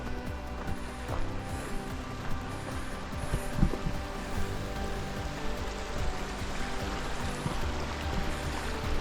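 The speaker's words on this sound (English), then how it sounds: "So this bridge is crossing over Lightning Creek." Lightning Creek flowing beneath a bridge in the Frank Church River of No Return Wilderness, a steady broadband rush of moving water that runs continuously and fairly close, with small splashy irregularities throughout.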